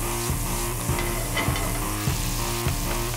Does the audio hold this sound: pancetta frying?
yes